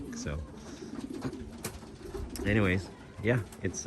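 Racing homing pigeons coo softly in a loft, several low throaty calls rising and falling at close range, with someone talking over them.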